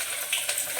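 Chopped garlic dropped into hot oil for a tempering in an Indian-style kitchen, giving a steady, close hiss of frying, brief and continuous without any voices.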